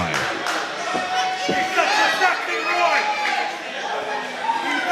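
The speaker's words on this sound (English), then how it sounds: "listen to this crowd" A wrestling arena crowd at an AWF High Voltage show roars and chatters for Sexy Roy, a dense, sustained wash of cheering and shouts with a commentator talking over it.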